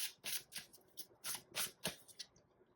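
Tarot cards shuffled and drawn by hand, a quiet run of papery riffles and swishes in uneven bursts, close and soft, with no speech.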